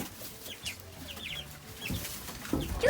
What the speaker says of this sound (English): Do you mind, chickens?